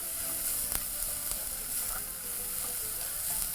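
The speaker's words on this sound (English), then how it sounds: "while allowing your onions to sweat off, proceed to continuously mix the" Onions sweating in a pot for a beef casserole, a steady close sizzle with a few sharp scraping clicks as they are stirred.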